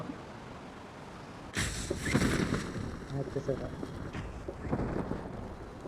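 A boat in the game BGMI surges across water toward an island with wind rushing past, the splashing and churning starting abruptly and continuing in uneven waves, with faint voices.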